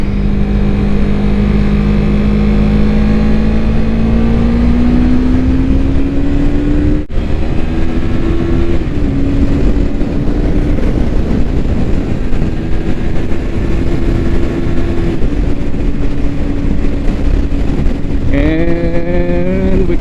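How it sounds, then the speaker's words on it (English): A Yamaha MT03 300cc motorcycle runs at top speed on a private road, its engine note rising steadily through long pulls and shifting pitch with gear changes, loud and close with constant wind roar. "we're going on a private road right now, just to test out the speed of this bike."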